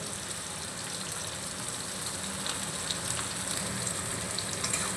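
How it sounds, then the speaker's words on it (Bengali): Onions for beresta hiss in hot oil over a high flame for aloo biryani, a dense, even sizzle with small crackling pops that holds steady throughout. "পেঁয়াজগুলো এরকম গরম তেলের মধ্যে পেঁয়াজটা দিতে হবে"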